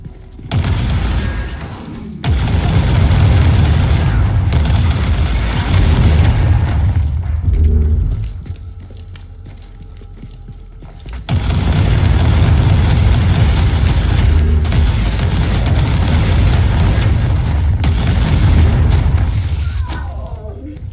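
Loud, sustained gunfire from a weapon in the video game Warhammer 40K Inquisitor comes in two long booming stretches separated by a quieter lull with faint rumbling, followed by fading residual noise.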